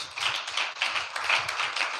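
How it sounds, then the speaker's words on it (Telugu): Church congregation clapping hands in praise, a quick continuous patter of claps at moderate loudness with a faint low murmur beneath. "చప్పట్లు కొట్టి దేవుని మహింపచ్చు"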